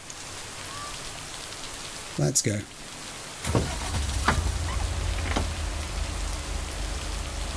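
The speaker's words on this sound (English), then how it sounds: "Oh, rain as much as you like." Steady rain patters on surfaces as a broad, even hiss. A short spoken phrase cuts in partway through, then the downpour grows a little fuller and continues alone.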